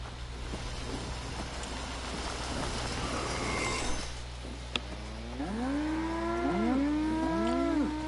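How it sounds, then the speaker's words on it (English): Cows low several times in Fallout 76, a series of overlapping drawn-out moos rising and falling near the end, over a steady low ambient game hum. "These are cows."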